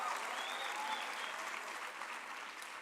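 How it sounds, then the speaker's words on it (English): A festival audience at the official opening of the National Arts Festival applauds, giving steady, fairly distant crowd clapping that stays even throughout and eases off a little toward the end. "Can we give her a round of applause?"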